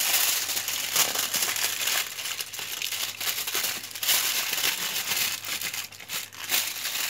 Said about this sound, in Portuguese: Agora nós vamos embalar com papel alumínio.